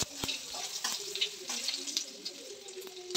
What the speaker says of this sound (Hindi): इसको अच्छा से अभी ब्राउन होने के लिए देंगे लहसुन को